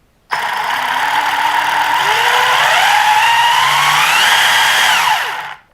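An XLF F17 RC car's electric motor whines loud and close for about five seconds, its pitch climbing and wavering before cutting off.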